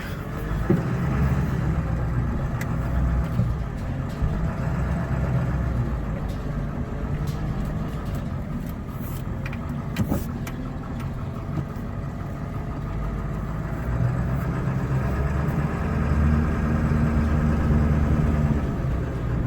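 A Ford Super Duty truck with a Powerstroke diesel engine, revived after sitting over three years, rumbles steadily while being driven around the block, a loud, low continuous drone with slight rises and dips in revs.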